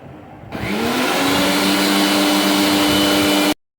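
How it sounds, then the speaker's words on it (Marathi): A mixer grinder blending java plum (jamun) fruit starts up and whirs loudly at a steady high pitch for about three seconds, then stops abruptly. "मिक्सरच्या भांड्यामध्ये घालून मिक्सरमध्ये बारीक करून घ्यायचे"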